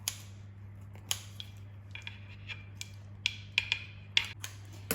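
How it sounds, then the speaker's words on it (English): Scissors snip through a festive Camembert wreath in the kitchen, giving a string of crisp, close cuts spaced irregularly, some isolated and some in quick pairs, over a low steady hum with no talk. "You can go around it again with some scissors if you really want to, which I will just to ensure that it's completely cut through"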